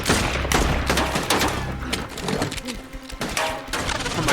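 Gunfire from a Walking Dead episode: rapid, loud bursts of shots in irregular clusters with brief gaps, mixed with score and effects and no clear talking.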